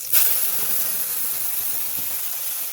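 Ground spice paste of ginger, garlic, onion and green tomato hits slowly fried onions in a pan, setting off a sudden loud hiss that settles into a steady, broad sizzle lasting throughout, close and alone.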